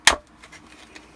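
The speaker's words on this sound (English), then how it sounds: "I'm going to just snip it right there" One sharp, close snip as cutters trim a corner off a plastic Shadow Trooper armor piece, followed by faint handling noises.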